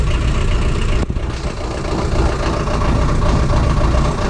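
A Land Rover engine idles after a cold-weather start with upgraded glow plugs, a loud, close, rough low rumble with steady knocking pulses and a brief dip near the start.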